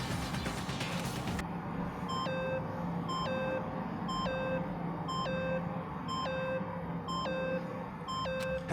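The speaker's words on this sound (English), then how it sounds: "Stop that goddamn beeping and say something." Steady electronic beeping repeats about once a second in Danganronpa: Trigger Happy Havoc, a short sharp tone pulsing evenly over a dense noisy background after a brief burst of sound at the start.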